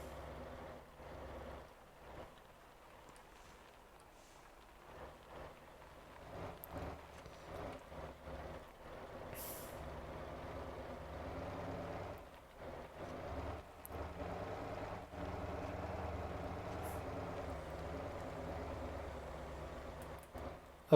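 A logging truck in the video game Motor Town drives along at speed, a steady low engine drone with road and wind noise that builds gradually and holds, with no talk over it.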